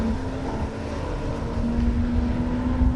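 Porsche 924 race cars circling the Snetterton circuit, a steady droning engine note with a sustained tonal hum that grows slightly louder toward the end, heard from a distance without commentary.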